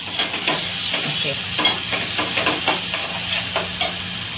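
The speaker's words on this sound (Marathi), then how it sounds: "वाटण हे कच्च्या करायला व्यवस्थित भाजलं पाहिजे" Masala paste (vatan) for a Malvani mackerel curry roasts in a pan, giving a loud continuous sizzle with repeated scraping strokes of a spoon stirring it close by.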